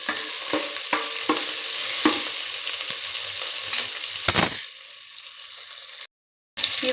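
A tempering of cumin and mustard seeds frying in a pan on the gas: a constant hiss with light taps and stirring, a brief louder burst, then quieter, cutting out briefly near the end.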